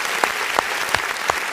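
A graduation ceremony audience clapping: a sustained wash of applause with a few distinct sharper claps standing out at regular intervals, moderately loud and without talk.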